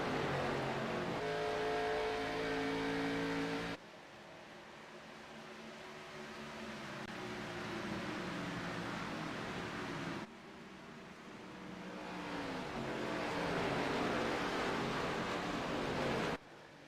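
Race cars circling the Nashville track in a sim race: a continuous, loud engine drone with shifting pitch as the cars accelerate, with abrupt cuts between views and no voices.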